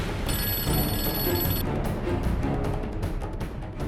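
A telephone bell rings in a domestic drama scene, an electronic trill heard for about a second and a half over a busy, loud background bed of music and ambience.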